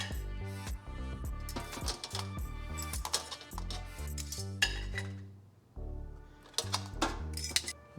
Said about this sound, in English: we're gonna put these in the air fryer